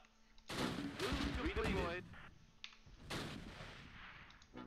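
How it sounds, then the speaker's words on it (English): A machine gun opens up in the Close Combat war game, a burst of rapid gunfire mixed with other shots and battle noise, moderately loud, followed by a second, softer volley. "Machine gun opening up."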